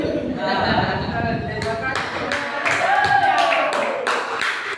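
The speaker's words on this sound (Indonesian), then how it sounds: "Tepuk tangan dulu untuk semua." A group at a talk on AI ethics and face-swap risks claps, with a brief scatter of sharp claps joining partway through under someone speaking.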